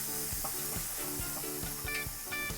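Lamb chops sizzle quietly on a barbecue over very low heat, a soft steady crackle and hiss with faint irregular pops, close up and on its own.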